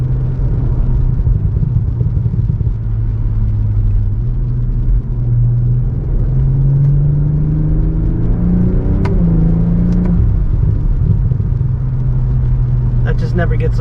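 A 2024 BMW M340 xDrive accelerating through an S-curve: a steady, loud engine and road rumble from inside the cabin, with a rising engine tone midway, while someone talks over it.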